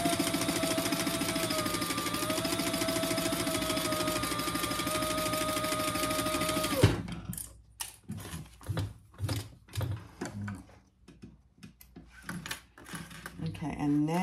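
A sewing machine runs steadily for about seven seconds while basting a handbag lining in place, then stops; afterward come scattered handling knocks and rustles, with a person speaking nearby.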